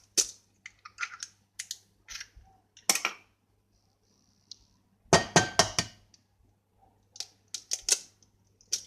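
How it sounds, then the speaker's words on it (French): Eggs are cracked against a bowl edge for a brownie-cookie batter, giving sharp clicking taps and crisp shell snaps in short bursts with quiet gaps, close and fairly loud. "Donc nous allons commencer par casser"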